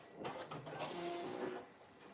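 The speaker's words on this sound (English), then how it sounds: "While that's printing out" A DTF printer printing a transfer for a shirt gives soft mechanical whirring and faint carriage movement, quiet and close, over a couple of seconds with no one speaking.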